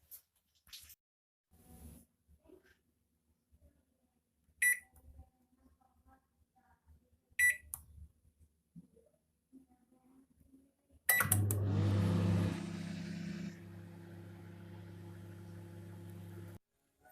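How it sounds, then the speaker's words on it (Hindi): A microwave oven set to grill hums steadily after a switch-on clunk, a constant mid-level drone with soya chunks on the high rack inside, following scattered quiet kitchen clatter. "इसे मैंने माइक्रोवेव में हाई रैक पे रख दिया है। अब इसे हम ग्रिल कर लेंगे 10 मिनट तक।"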